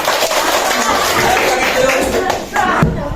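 Students clapping hands together in a classroom, a short burst of brisk, fairly close clapping mixed with lively voices and chatter throughout.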